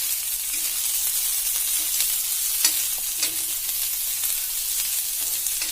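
Green chillies fried in hot oil in a pan while being stirred for a vegetable spring roll filling, a loud, steady hiss with occasional soft utensil scrapes, no voices.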